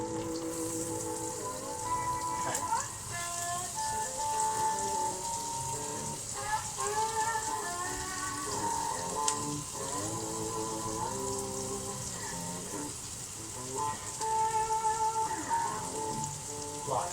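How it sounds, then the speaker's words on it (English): Onions fry in a pan while burgers are being made, giving a steady sizzle like falling rain beneath a layer of tonal, music-like sound. "I want the onions to start frying."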